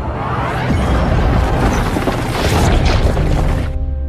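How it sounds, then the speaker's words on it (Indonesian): A huge Terraform machine explodes in a Superman film, a loud, dense roaring blast with crashing debris that fills about four seconds before cutting off. "Kal-El lemah setelah ledakan mesin"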